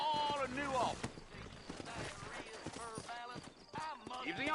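Horses in the Western video game Red Dead Redemption clip-clop along in an irregular hoof rhythm, with voices of characters talking over the steps throughout.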